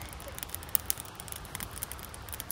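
Campfire crackling outdoors after rain and hail in the Sawback Range, with scattered sharp pops and snaps over a soft background hiss.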